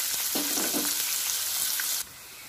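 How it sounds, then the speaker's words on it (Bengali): Chopped onions frying in a pan while a chicken and potato curry is cooked, giving a steady, close, bright sizzle that cuts off abruptly after about two seconds, leaving quieter background hiss. "আমার পেঁয়াজ ভাজা হয়ে গেছে"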